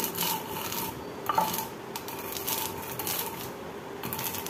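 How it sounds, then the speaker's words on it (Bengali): Horse gram lentils are rubbed between the hands to loosen their husks, making a soft, gritty, continuous rustling with small scraping surges and no speech. "ডালগুলো যেন একদম গুঁড়ো না হয়, শুধু খোসাটা করে আলাদা হবে।"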